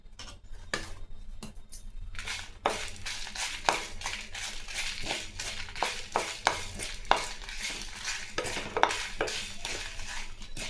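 Fenugreek, cumin and four dried red chillies are dry-roasted in a pan over medium heat, with a soft crackle broken by repeated scraping and clinking strokes of a spoon against the pan.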